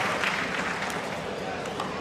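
Crowd at a pickleball match at the Daytona Beach Open clapping and cheering in a steady dense wash for two seconds, with a commentator talking over it.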